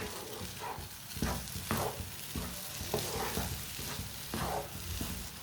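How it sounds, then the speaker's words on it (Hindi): Semolina halwa being stirred in a cooking pan, with a steady sizzle under repeated scraping strokes at a slow, regular rhythm, close and moderately loud with no talk. "ऐसे ही मिक्स करते हुए पका लेना।"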